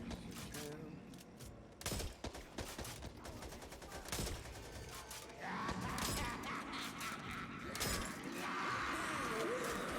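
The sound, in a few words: gunfire in the Back 4 Blood video game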